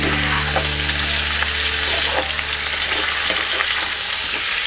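Potatoes fry in a pan for Kashmiri alur dum, a loud continuous sizzle with a few soft stirring knocks, no voices over it.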